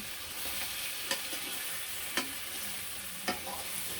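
Food frying in a pan at home is stirred, a steady quiet sizzle with a few distinct scraping clinks of the spatula at intervals, faint and without talk.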